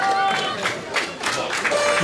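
Crowd at a half-marathon finish line clapping and cheering for runners, steady mid-level applause heard under an announcer's voice.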